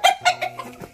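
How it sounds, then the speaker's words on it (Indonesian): Several small white Silkie chickens cluck in short, repeated bursts at close range, the calls coming in an uneven rhythm on a farm. "itu ayam-ayam kita yang putih gitu, yang kecil, ayam silky ya namanya"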